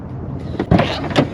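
A Honda CR-V car door, whose outside handle is broken, is opened from inside the vehicle while car camping: a clunk of the latch followed by a second thud, close and moderately loud.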